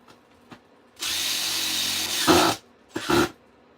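A power drill drives screws overhead inside a van being converted into a tiny home: one sustained high whirring run about a second and a half long, then a short strained burst, close and loud.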